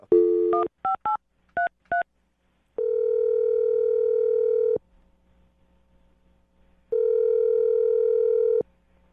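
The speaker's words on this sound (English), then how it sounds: "I'm going to dial his phone number right now and get him on the phone." A rapid series of telephone keypad tones, then two long steady ringback tones separated by a silent gap, clear and close.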